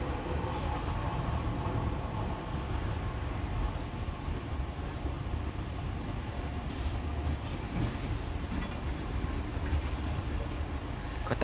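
Train running into an underground station, a loud continuous rumble of wheels on rail with rising screeches and squeals in the second half, heard from on board and close.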